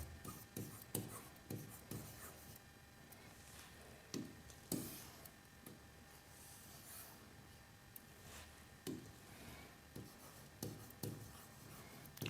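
Chalk or marker strokes on a board during a Class 10 maths lesson on the SAS similarity theorem, a quiet series of scratchy strokes and taps spread irregularly through a hushed room.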